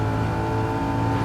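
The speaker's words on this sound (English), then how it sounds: "I can just floor it already in 4th gear" A Gran Turismo 7 race car at Laguna Seca held flat out in fourth gear, its engine droning as a steady, loud, continuous tone with no voices over it.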